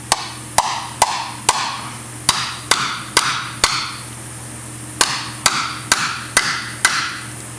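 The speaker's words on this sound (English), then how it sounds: "You can kind of tap it a little bit to get it started" A hammer taps a front wheel bearing seal into place on a 1994 Ford Explorer, with a long series of sharp metallic knocks in an uneven rhythm, loud and close, with no talking.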